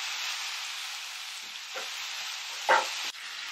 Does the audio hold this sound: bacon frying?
yes